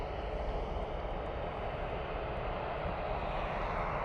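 An ATR 72 turboprop arriving from Belfast drones steadily nearby, a dense, even engine roar with a low rumble that holds constant and fairly loud throughout.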